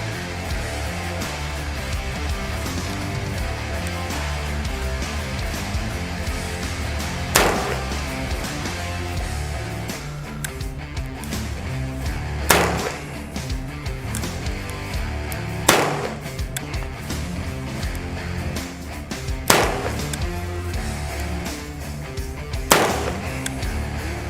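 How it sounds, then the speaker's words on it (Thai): A Smith & Wesson 686 revolver firing .38 rounds at a 10-metre range, five sharp, loud shots spaced several seconds apart over a steady noisy background, with no speech. "กับระยะ 10 เมตร นะครับ ยิงแบบตานี้ ตานี้หน่อย กับปืนใหม่ สมิธ686"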